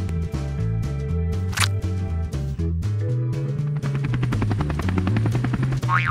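Loud, steady helicopter rotor thumping with a droning engine from a Bluey Mashems toy playset, heard up close and alone for several seconds.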